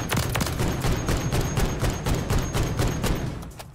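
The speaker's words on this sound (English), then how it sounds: "It's like a burst with the WSP9" A WSP9 submachine gun in Call of Duty Warzone on Rebirth Island fires in burst mode, with loud, close, rapid clusters of shots running continuously through the moment.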